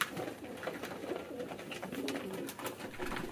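Several pigeons, Lakkha fancy pigeons bought at a market, coo repeatedly at close range in a steady, overlapping murmur with faint background noise and no talking.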